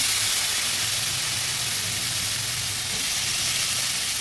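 Chopped potatoes go into a pan of hot fried spices, giving a loud, dense, steady sizzle and hiss that runs throughout with no talk.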